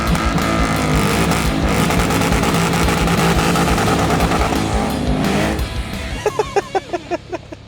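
A cheap modified V8 car does a burnout, its engine roaring loud and continuous with tyre squeal, then easing into a string of sharp, separate revs and pops near the end.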